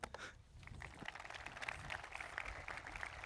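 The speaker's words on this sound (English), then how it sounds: "Can we get a round of applause for them?" Applause from an audience at a high school graduation, a dense, steady patter of many hands clapping at moderate distance, continuing evenly with no voices standing out.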